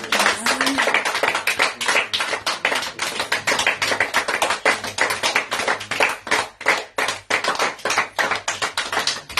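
Loud, continuous clapping from a church congregation, rhythmic and close, filling the space without pause.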